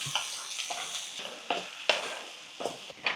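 A spoon stirs broad beans with tomatoes, turmeric and salt in a pan, giving close scraping and clinking strokes at an uneven rhythm over a soft sizzle, with no voices.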